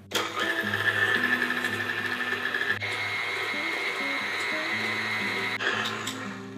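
An electric mixer beats eggs on medium speed for a sourdough discard blueberry buckle batter, a steady droning motor whine held for several seconds with two brief dips, close and without talk.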